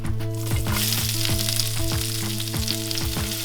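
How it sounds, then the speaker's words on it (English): Vegetables fry in the same skillet just used for steak, with a loud, continuous sizzle up close. Regular spatula scrapes and clinks run through it. "so now we're going to cook our veggies in this same skillet."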